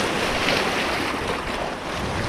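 Ocean waves at sea rushing and washing steadily from a small fishing boat, with strong wind buffeting the microphone, a continuous broadband roar without voices.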